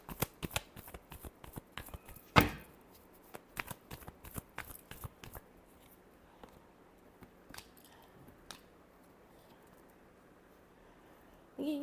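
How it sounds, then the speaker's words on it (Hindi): Tarot cards shuffled by hand in a quiet room, a rapid run of crisp riffling flicks with one sharper snap near the start, then fewer scattered soft taps and slides that trail off. "Last shuffle."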